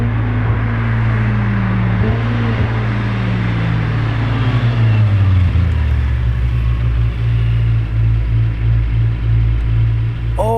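A Lamborghini Performante in matte black with yellow calipers rumbles past loudly, its engine note dropping in pitch as it goes by, followed by a lingering low drone.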